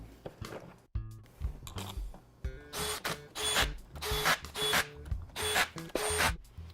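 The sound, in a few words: bolts being threaded back into the bonnet cover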